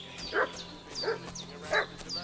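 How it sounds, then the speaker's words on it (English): Dog barking in the video game Kingdom Come Deliverance 2, three evenly spaced barks at moderate distance over steady background ambience. "What's that dog making such a fuss about?"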